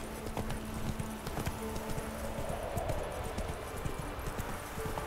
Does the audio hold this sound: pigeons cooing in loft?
no